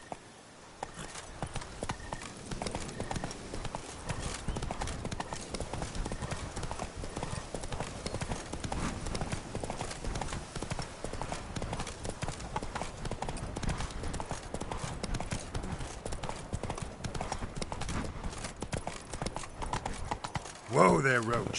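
The horse Roach trots in Witcher 3: Blood & Wine, and its hooves clip-clop in a steady rhythm that continues unbroken for the whole stretch.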